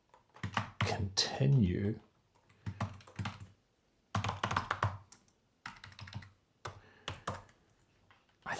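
Typing on a computer keyboard during a programming session, with bursts of key clicks coming between and under steady nearby speech from a man.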